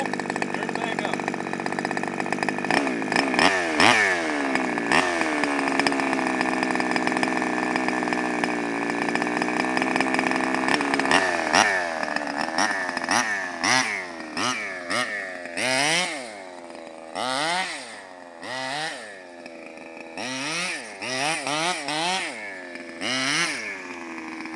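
A CY23 R/C model gas engine runs close and loud, idling with a wavering buzz before climbing into a series of sharp, choppy revs.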